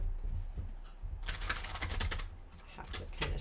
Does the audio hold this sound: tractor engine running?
no